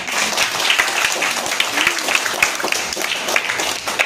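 Audience applause fills a school elocution competition hall, a dense, steady wash of many hands clapping for about four seconds at even loudness.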